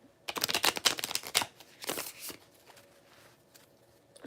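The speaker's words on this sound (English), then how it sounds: "But I'll shuffle for y'all." Playing cards riffle-shuffled in quick crackling bursts, two clear runs close to the listener, then fading into quiet room noise.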